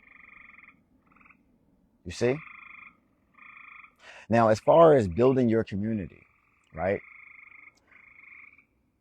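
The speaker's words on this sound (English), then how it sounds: "can y'all hear those frogs in the background?" Frogs croak steadily in the background outdoors, a repeating chorus heard alone in the gaps and continuing faintly beneath a man's speech.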